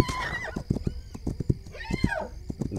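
A horse in a Wild West survival video game whinnies twice, each neigh rising and falling, while its hooves clop in an uneven rhythm underneath, heard up close.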